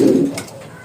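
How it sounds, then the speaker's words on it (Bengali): A Baghdadi homa pigeon gives a single short, low coo up close, loud at first and then trailing off, with no talk over it. "এই জায়গায় একজোড়া বাগদাদি হোমা কবুতর আছে"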